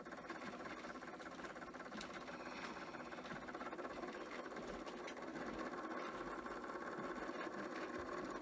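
A sewing machine runs continuously while stitching a T-shirt quilt, giving off a steady, close mechanical whir with some odd extra rattling noises and no pauses. No one speaks.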